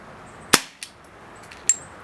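An Umarex Beretta M92 FS .177 CO2 pellet pistol fires a sharp, close crack, followed by a fainter tick and then a second crisp shot about a second later, with a quiet background.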